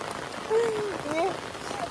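Steady rain pours down outdoors during a monsoon shoot at Narali Purnima, a continuous hiss filling the background while voices talk over it.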